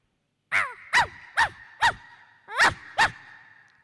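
At a college arts fest mime show, a performer imitates a poor household's dog with six short, strained bark-like yelps in two groups, loud and close with no other sound.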